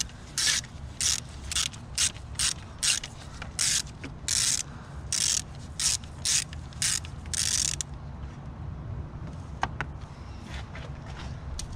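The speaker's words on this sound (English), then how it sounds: "You're gonna need a breaker bar to get this off." A breaker bar loosens a very tight 17 mm drain plug on a 2006 Acura TL: a quick series of sharp, close ratcheting clicks in regular bursts, then a quieter stretch with a few faint metallic taps.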